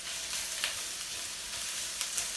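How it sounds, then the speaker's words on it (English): Chicken fajitas sizzle and fry in a hot pan, a steady hissing crackle with a few sharper pops, close and fairly quiet, with no talking. "So you should hear that sizzle when your item goes in."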